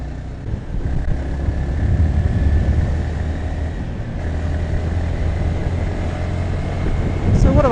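A Yamaha XSR155 motorcycle's 155 cc engine drones steadily while riding in fifth gear in Bali, with loud low rumble and wind rush continuing throughout.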